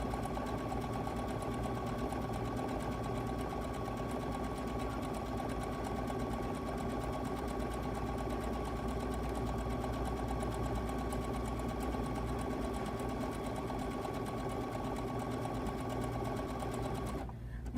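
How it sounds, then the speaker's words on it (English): Sewing machine running a decorative stitch with thick decorative thread, a steady close mechanical whir holding without pause almost the whole time and stopping right at the end. "Put my fabric under there, and then we're just gonna run our stitch."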